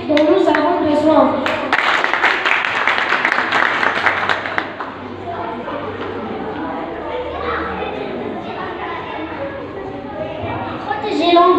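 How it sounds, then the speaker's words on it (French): Children in a classroom applaud, loud clustered clapping for a few seconds that then thins out under murmuring voices and chatter. "applaudissements."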